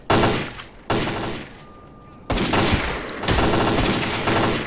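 Loud bursts of gunfire in S.T.A.L.K.E.R.: Clear Sky, rapid sustained volleys separated by short pauses, close and harsh with no talking.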